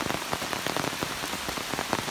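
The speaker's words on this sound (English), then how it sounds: "we are in a deluge of rain right now" Heavy rain pours down on an overgrown hiking trail during a summer backpacking trip to the Walls of Jericho, a dense, steady hiss of drops striking leaves and ground with no voices.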